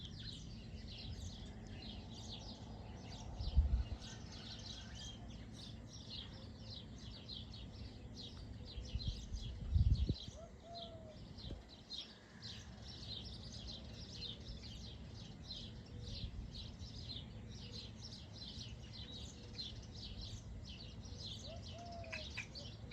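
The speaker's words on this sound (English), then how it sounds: "You hear all the birds?" Birds chirp and sing outdoors, dense repeated high tweets going on continuously at moderate distance, with a few soft thumps and brief low noises mixed in and no talk.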